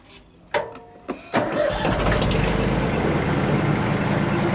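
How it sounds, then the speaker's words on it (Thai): A 16 hp 4WD tractor engine cranks in a few short bursts, then fires and settles into a loud, steady running rumble that lasts to the end. "เราจะติดเครื่องให้ดู"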